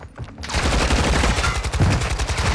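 Dense, rapid gunfire from a battle royale video game, an unbroken burst of loud automatic shots that starts abruptly after a brief quiet moment and keeps rattling to the end.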